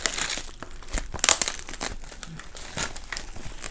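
Tape crinkling and tearing as a small jewelry package is unwrapped, close and fairly loud, with irregular crackly rustles and a sharper rip near the middle.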